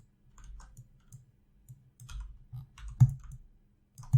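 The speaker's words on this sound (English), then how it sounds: "Click G on the keyboard to repeat the action." Keys pressed on a computer keyboard, including the G key, as light scattered clicks with one sharper press near the end, close and quiet against a silent background.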